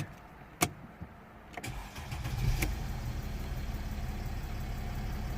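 Mercedes ML320 CDI diesel with turbo actuator faults clicks and cranks, then catches and settles into a steady low rumbling idle, close by with no voices.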